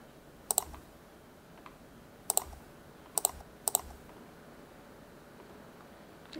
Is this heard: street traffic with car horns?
no